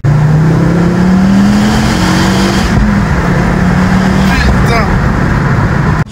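A 320-horsepower Ford Focus RS Mk2 engine drones steadily and rises in pitch as it accelerates on a road test, loud and close, with road and wind noise throughout.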